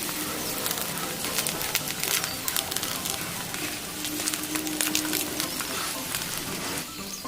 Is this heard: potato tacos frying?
yes